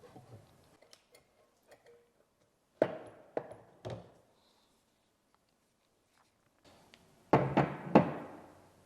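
Removal of a brake caliper from a car being repaired for squealing brakes: sparse metallic clicks and knocks, then two short bursts of clanks and thuds as the part comes loose, close up and without talk.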